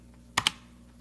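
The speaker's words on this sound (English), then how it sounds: "Let's type in Apple." Two quick, close clicks of computer keyboard keys, struck in rapid succession at an office desk, then quiet.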